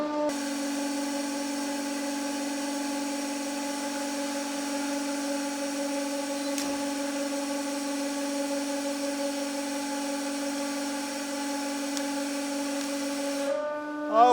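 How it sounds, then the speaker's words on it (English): A 150 ton hydraulic press driving a knife into a thick sheet of polycarbonate, heard as a steady mechanical hum with a constant whine that holds throughout, one faint crack midway and a brief burst of noise at the end. "This is going to stop 9 millimeter bullet, but will it stop the hydraulic knife?"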